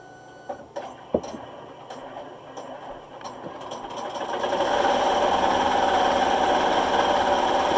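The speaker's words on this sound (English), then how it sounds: "We're going to hit start. And do some stitching." A Melco embroidery machine stitching on a hat starts with scattered clicks and ticks, then ramps up into a loud, continuous rapid mechanical rattle and whir close by.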